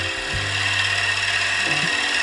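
A spindle gouge cuts Red Ironbark on a wood lathe to shape a snack bowl, giving a steady close scraping whir with a low hum beneath and a small shift in pitch near the end.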